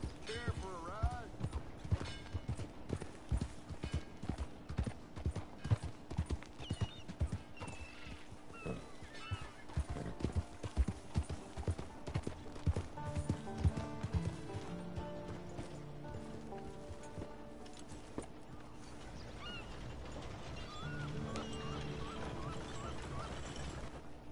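Horse hooves clop in the Western video game Red Dead Redemption 2, a run of rhythmic, fairly close hoofbeats that slows and thins out, with creaks and light ambience underneath and a steady hum toward the end.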